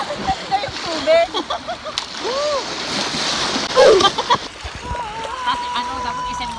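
Sea water splashing at a sandbar on a rainy-season beach, sloshing bursts heard close up while people talk and exclaim over it.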